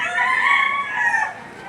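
A rooster crows once at an outdoor poultry market, a loud, close, drawn-out cock-a-doodle-doo with a strained, slightly raspy tail.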